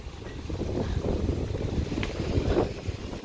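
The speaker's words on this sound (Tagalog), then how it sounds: "Lakas ang hangin." Strong autumn wind blows outdoors in South Korea, a continuous loud rushing buffet against the microphone with no talking.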